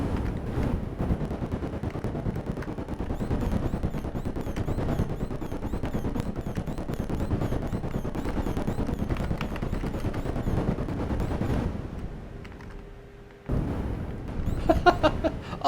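Dense, continuous retro arcade combat noise from the 1980 Armor Attack game: rapid gunfire crackle and explosion bursts running steadily, dropping out briefly near the end before a few sharper blasts return.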